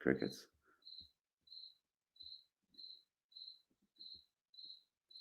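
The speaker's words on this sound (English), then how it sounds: "crickets?" A brief voice opens, then a single cricket-like chirp repeats at a steady, slow pace, each high trill evenly spaced against near silence.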